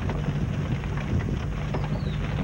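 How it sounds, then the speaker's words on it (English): Steady rain falls at a baseball field in Clinton, Oklahoma, a dense, even hiss with low rumbling underneath, continuous and fairly close throughout, with no voices. "Sounds like rain"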